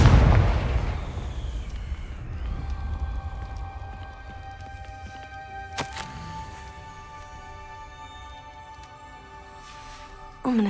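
Confringo blasting spell going off in Hogwarts Legacy, a loud deep explosive boom at the start that decays into a long ringing tonal hum, with a sharp crack midway and another burst at the end.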